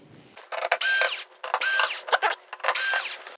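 Screws are backed out of a Polaroid 43GSR4100KL TV main board with a power screwdriver, heard as three short whirring bursts close up with gaps between them.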